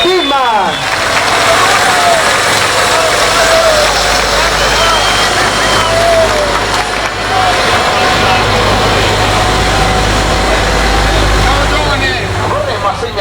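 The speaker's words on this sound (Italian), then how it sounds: "Questo è l'applauso di Chiarano e Rocco Power Team!" Crowd applause at an outdoor tractor pulling championship in Chiarano, a steady broadband wash of clapping lasting throughout, with a loud announcer's voice and crowd babble over it and low engine rumble underneath.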